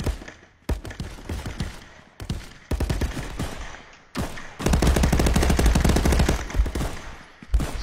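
Rapid automatic gunfire from the VR shooter game Contractors on Meta Quest, loud and dense, with bursts that stop and start before a long sustained volley of closely spaced shots.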